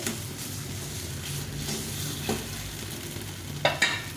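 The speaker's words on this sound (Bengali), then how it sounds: "এই আলু টমেটো আর মশলাটা কষা কষা হয়ে গেছে একদম সুন্দরভাবে কষে গেছে" Potato, tomato and spice masala being stir-fried in a pan for a mung dal and fish-head dish: a steady close sizzle with soft scraping stirs and a sharper spatula clatter near the end, no talking.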